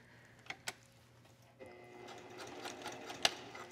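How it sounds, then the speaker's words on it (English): A sewing machine stitches a dress facing onto the neckline, running in a steady, quiet mechanical hum after a couple of soft clicks, close by with no talking. "I'm just gonna stitch from the shoulders down just to show you how this works."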